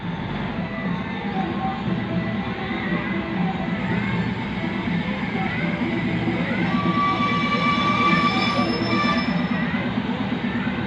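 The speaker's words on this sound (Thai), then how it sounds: "ตอนนี้ขบวนรถก็ได้เคลื่อน ออกจากสถานีนครลำปางแล้วนะครับ ค่อยๆเคลื่อนช้าๆ" A special northern tourist train pulls slowly out of Nakhon Lampang station in Thailand, its steady low rumble and squealing wheels filling the scene, with faint distant voices underneath.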